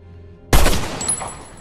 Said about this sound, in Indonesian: peluru penjaga penjara mengenai tubuh Javed